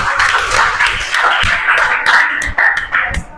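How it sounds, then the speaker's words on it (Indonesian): A whole class of ninth-grade students claps together on a teacher's cue, producing a dense, loud patter of many hands with several sharper accented claps near the end. "tepuk tangan semua"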